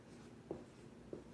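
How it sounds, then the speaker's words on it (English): Pen or pencil on paper: two brief, faint scratching strokes a moment apart in a quiet room. "I'll write that down."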